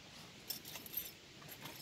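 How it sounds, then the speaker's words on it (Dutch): Keys jangle softly in a light, brief metallic rattle outdoors during a walk, faint against a steady background hiss. "En daar gaat mijn sleutels."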